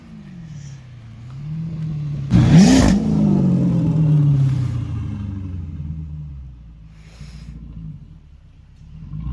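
A Dodge Chrysler 300 Hemi V8 rumbles close by, then is revved hard in one sharp roaring burst that slowly falls back to a deep idle, with no talking.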